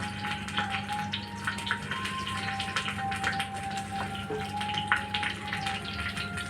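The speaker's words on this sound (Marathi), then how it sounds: "आता मी तेलात एक मिरची टाकते।" Green chili sizzling in hot oil in a pan over a low gas flame, with a steady crackling fry and a faint tonal hum beneath, close and continuous without talk.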